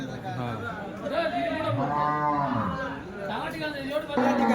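An HF cow at the Dhule cattle market gives long, drawn-out moos, loud and close, with market chatter and voices around it.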